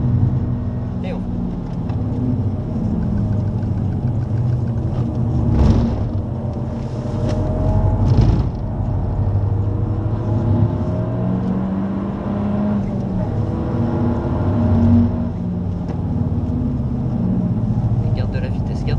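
Inside a Peugeot 308 GTi lapping the Le Mans circuit, the engine drones loudly at speed, pitch climbing and dropping through gear changes, with people talking over it in the cabin.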